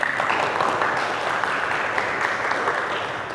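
Warm applause from an audience at a Hindu religious talk, a continuous burst of many hands clapping at moderate loudness, tapering slightly toward the end.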